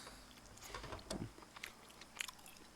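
Lobster topped with melted cheese being eaten up close, with soft biting, crunching and chewing at a quiet level.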